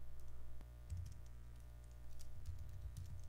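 Light computer keyboard typing, a few soft scattered key clicks heard close but quiet over a low steady hum, with no talking.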